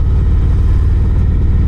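Harley-Davidson Street Glide motorcycle engine running steadily while riding, a loud continuous low rumble with no break and no voices.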